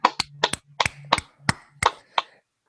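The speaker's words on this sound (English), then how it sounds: "people that are listening to it are clapping too" A few people clapping at an informal gathering, eight or nine sharp separate claps in an uneven rhythm with a low hum under the first half, close and fairly loud, fading out after about two seconds.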